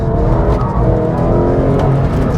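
Porsche 911 GT3 accelerating hard on a race track, a close, loud engine note climbing steadily through a short burst of throttle.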